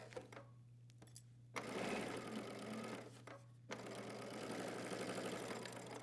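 A sewing machine fitted with a zipper foot stitches a pair of pants about a quarter inch from the edge, running in steady bursts with brief pauses and a constant low motor hum underneath.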